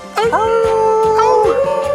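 A voice imitates a dog howl, a loud sustained wavering wail with a cracking, breaking tone, close to the mic.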